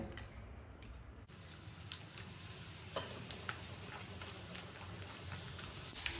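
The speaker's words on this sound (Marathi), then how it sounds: "आता लगेचच आपण याला तळून बघूया आपलं तेल अगदी छान तापलेलं आहे लगेचच यामध्ये आपण मिरगुंड सोडूया" Pohe mirgunde, traditional flattened-rice papad, drop into hot oil and fry with a steady, dense sizzle, punctuated by a few soft pops and clicks, close and fairly quiet.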